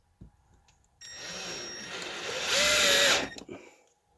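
Cordless power drill driving a bit into wood while fixing attic hatch brackets: a short tap near the start, then about two and a half seconds of steady motor whine that rises as it bears down, stopping abruptly.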